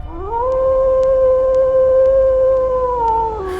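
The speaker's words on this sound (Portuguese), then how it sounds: "Um uivo de lobo." A wolf howl, one long sustained high tone rising at the start, holding steady for about three seconds and then dropping away, loud and clear with no talking.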